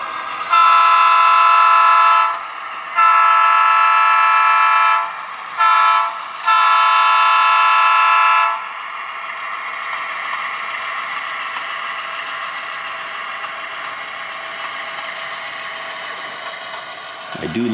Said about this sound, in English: I do love running this GP9.